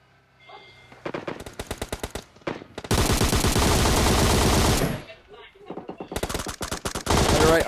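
Video game gunfire in bursts: rapid automatic weapon fire in short volleys, then a long sustained stream of shots, a brief pause, and more fast bursts, loud and close throughout.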